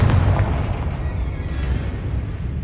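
A Confringo fire spell blasts in Hogwarts Legacy, giving a deep, rumbling explosion that fills the moment and then trails off into a lingering low roar.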